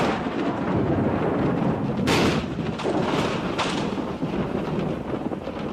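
Rolling thunder from a coming storm over open hills, a steady low rumble with a sharper crack near two seconds and softer peals after, carried on constant wind noise.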